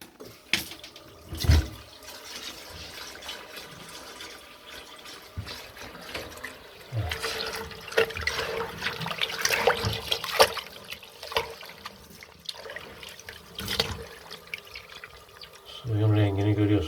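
Tap water runs and splashes while aquarium sand is rinsed clean in a container, with irregular gushes and bursts of stirring over several seconds and a deeper sloshing surge at the end.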